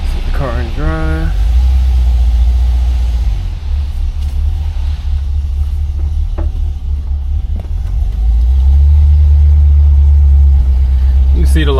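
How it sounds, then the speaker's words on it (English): A 1975 Pontiac Grand Ville with a 455 engine rumbles steadily nearby, its low engine drone swelling louder toward the end as it pulls away. "Set the car in drive."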